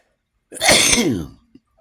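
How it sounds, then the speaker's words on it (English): A single loud, close sneeze, a sharp breathy burst lasting under a second, followed by a faint click and silence. "I'm about to sneeze."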